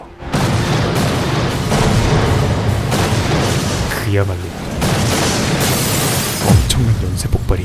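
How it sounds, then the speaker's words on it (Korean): A TV drama's chain of explosions engulfs a burning building: repeated loud, deep booms and blasts roll one after another, with a narrating voice speaking over the din. "엄청난 연쇄 폭발이"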